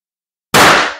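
One sharp shot from an HDP50 gun running on HPA and firing a 2.6 g rubber-steel ball, a sudden loud close pop after silence with no speech.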